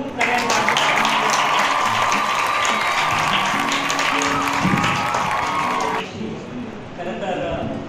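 Applause and clapping from a gathered crowd celebrating the birthday of yoga teacher Sonnekar, steady dense clapping with a tonal hum and chatter underneath, tapering off near the end.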